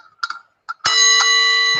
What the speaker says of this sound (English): This bell was not marked, this vintage bell. Should I demonstrate this bell?